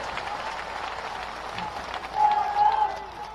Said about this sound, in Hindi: एक बार सिंधिया जी का जोरदार तालियां बजा के स्वागत कर रहे हैं,